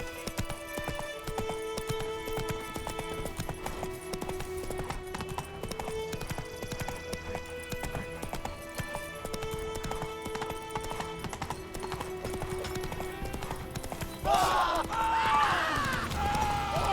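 The horse Roach trots and gallops in The Witcher 3, a steady rhythmic clip-clop of hooves over game music, with a brief louder burst of sound near the end.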